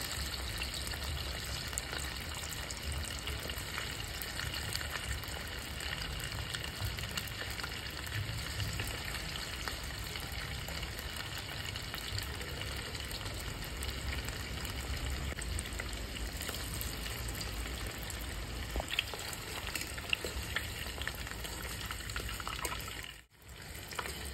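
Long, thin strips of chicken fry in hot oil in a rural kitchen. The hissing sizzle stays steady and fairly soft throughout, with faint bubbling, and cuts out briefly near the end.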